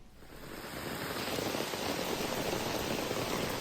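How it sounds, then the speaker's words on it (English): Heavy rain pours down in a dense, steady hiss that swells in the first moment and then roars evenly, with no talking, during a downpour in Saxony, Germany. "Just listen to that downpour."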